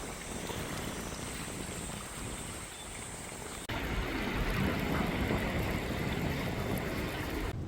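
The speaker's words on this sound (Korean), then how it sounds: "야 여기 왔는데 바람이 너무 많이 붑니다" Strong wind buffeting the microphone at a seaside fishing village in Pohang, a steady loud roar that grows harsher partway through, with no speech.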